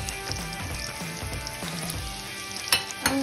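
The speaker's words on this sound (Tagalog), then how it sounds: "Sibuyas na guys, igisa na natin" Onions sautéing in a pan for Filipino ginisang togue, a steady close sizzle and crackle of frying with a couple of stirring clinks near the end.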